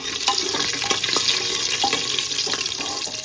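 Chillies and curry leaves hit a hot frying pan, giving a loud, dense, continuous sizzle with a few scraping stirs scattered through it.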